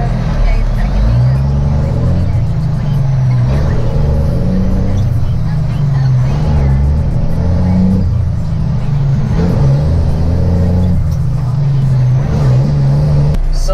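A big rig dump truck's diesel engine drones loud and close, its low rumble surging and dropping in pitch several times as gears are shifted during acceleration.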